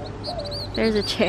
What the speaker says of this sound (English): You can hear the birds chirping.